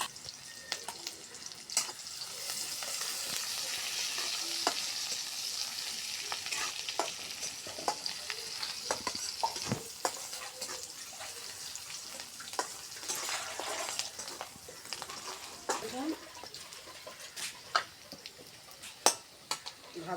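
Cumin, chopped onion, green chilli and garlic fry softly in a pan while being stirred, giving a low, steady sizzle broken by scattered scraping clicks throughout.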